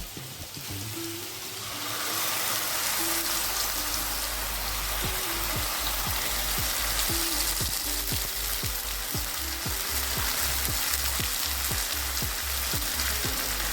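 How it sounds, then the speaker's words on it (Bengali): Ground spice paste fries with browned onions in a pan, a loud, dense sizzle that swells in after a quieter start and holds steady with crackling pops throughout. "পেঁয়াজটা ভাজা হয়ে গেছে এবার দিয়ে দেবো বাটা মশলা"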